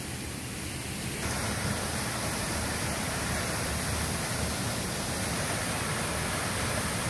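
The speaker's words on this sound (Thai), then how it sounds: "เรามาถึงน้ำตกกันแล้วมีป้ายชื่อบอกของน้ำตก" A waterfall roars as a steady, dense rush of falling water, loud and continuous from start to finish with no voices over it.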